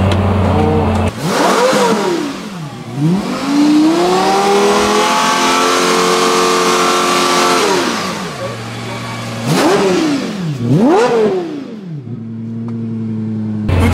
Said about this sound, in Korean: 어마어마한 마치 F1 자동차를 보는 것 같은 그런 사운드가 막 납니다